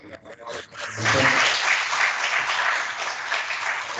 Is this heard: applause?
yes